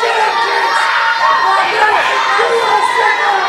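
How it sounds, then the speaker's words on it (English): Wrestling crowd jeering and shouting at the wrestler Bulldozer, a dense, steady roar of voices and high-pitched yells close around, filling the whole stretch with no pause. "You can't even hear the ring introduction right now over the jeers, over the disrespect of the fans for the bulldozer"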